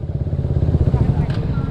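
A group of motorcycle engines idles and revs close by, a rumbling, pulsing drone under people talking.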